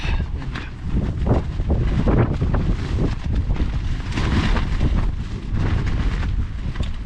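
Strong gusts of wind buffet the microphone in a continuous, rumbling roar that rises and falls without letting up.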